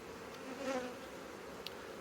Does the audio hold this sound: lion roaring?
no